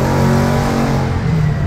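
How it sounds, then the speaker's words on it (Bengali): A 1000cc Honda CBR big motorcycle engine revs loudly and continuously at close range, a steady throaty roar with no talk over it. "1000 সিসি সিভিআর"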